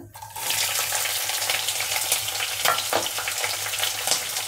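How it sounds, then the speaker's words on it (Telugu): Chopped onion and green chillies sizzle steadily in hot oil in a pan for a curry of moong dal and bottle gourd, a continuous close frying hiss with small crackles and no talking. "ఇప్పుడు మనము సన్నగా కట్ చేసి పెట్టుకున్న ఉల్లిపాయ, పచ్చిమిరపకాయలు వేసుకుందాం ఇందులో"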